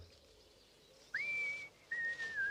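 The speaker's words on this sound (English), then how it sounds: "They could hear Farmer Brown whistling" A man whistles two clear, sustained notes, the first rising then holding, the second slightly lower and wavering, in a quiet setting.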